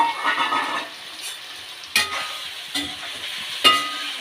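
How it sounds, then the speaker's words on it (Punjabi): New unpeeled potatoes frying in a pan give off a steady, close sizzle, broken by three or four sharp scrapes and clinks as they are stirred. "ਅਸੀਂ ਹੁਣ ਪਾਣ ਲੱਗੇ ਆਲੂ ਥੋੜੇ ਜਿਹਾ ਫਰਾਈ ਕਰਕੇ ਫਿਰ ਗੋਭੀ ਪਾਵਾਂਗੇ"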